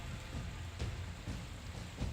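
Heavy rain falls steadily during the Punjab floods in Gurdaspur, a continuous dense hiss with a low rumbling undertone and faint irregular thuds, and no voices.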